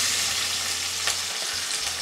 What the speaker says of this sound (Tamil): இந்த பாத்திரத்தில் எண்ணெய் காஞ்சிருச்சு, கட் பண்ணி வச்சுருக்கிற வெங்காயம் சேர்த்துக்கலாம்